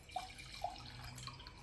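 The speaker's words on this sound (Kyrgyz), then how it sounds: "Алгач биз суу толтуруп алабыз." Water runs from a tap into a container for a project making a welder from water. The splashing is faint and steady, with a couple of brighter drips and gurgles and no talking.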